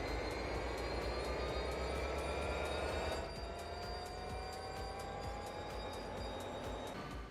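A working train in the video game DayZ rolls along steadily, its loud continuous rumble with rhythmic clicks and faint squealing tones holding throughout, easing slightly partway through.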